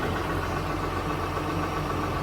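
A 2010 Dodge Ram 5500 mechanics service truck with crane and hydraulic air compressor idles, a steady, close, unbroken engine rumble.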